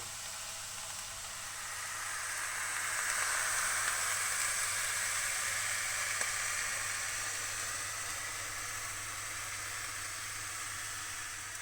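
A pita sizzles in a dry frying pan, giving a soft, steady hiss that swells slightly and then holds at a low level.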